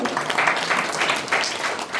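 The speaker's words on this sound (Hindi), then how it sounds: "जोरदार तालियां बजाएंगे।" Applause from an audience at a Holi festival gathering, a short burst of dense clapping that swells and fades in loose waves, close and fairly loud with faint voices mixed in.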